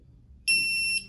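A Barktec remote citronella dog collar emits a single close, loud, high-pitched electronic beep that holds steady for about half a second, with no talking.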